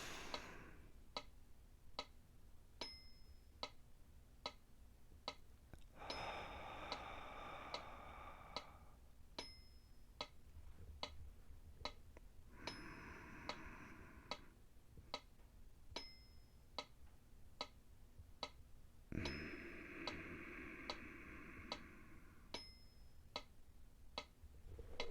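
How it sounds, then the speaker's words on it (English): A metronome ticks steadily in a quiet room, a regular train of sharp, evenly spaced clicks running alone throughout, with faint breathy hiss swelling in and out between ticks. "So I have a metronome here"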